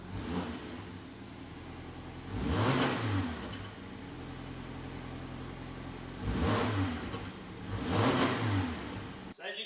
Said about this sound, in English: I'm gonna give it a few revs.